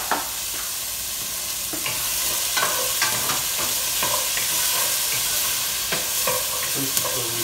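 Shrimp meatball mixture seasoned with oregano sizzles and is stirred in a pan, a steady frying hiss with frequent scraping and clinking strokes throughout, close and without talk.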